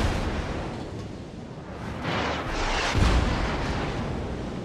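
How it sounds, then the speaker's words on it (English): Naval shells from World of Warships pound the player's ship, giving heavy rumbling booms and blasts that swell to a loud impact near the middle over a constant roar of battle noise. "whatever it is that is shooting at me, that's super freaking annoying"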